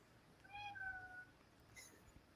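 A parrot imitates a cat, giving a few short meow-like calls near the start, faint and close against a quiet background, followed by a brief higher chirp.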